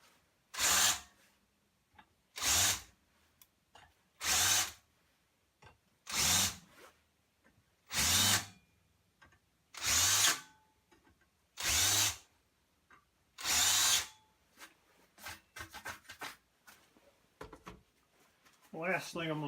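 A power drill bores countersinks into holes in the wear strip of a snow shovel, sounding in about eight short, loud, evenly spaced bursts separated by quiet gaps, followed by fainter scraping and handling noise.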